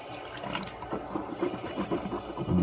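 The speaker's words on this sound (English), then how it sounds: "Wash your mouth out." Water swished and sloshed around the mouth to rinse it out after oil pulling, a close, continuous wet gurgling that runs steadily through the whole stretch.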